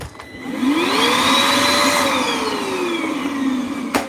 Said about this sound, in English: Let's go diagnose the vacuum.